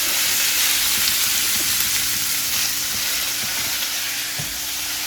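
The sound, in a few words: chicken breast frying and stirred in a wok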